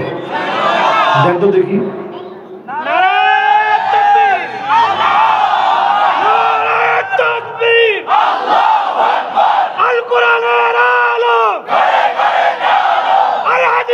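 A large crowd chants a religious slogan in unison, loud and close, repeated call-and-response phrases with a leader's voice leading the chant at an open-air sermon gathering.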